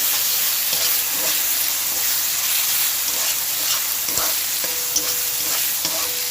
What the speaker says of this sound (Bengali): অল্প করে ধনের গুঁড়ো অল্প করে জিরে গুঁড়ো দিয়ে আমি মশলাটাকে খুব ভালো মতো কষিয়ে নেব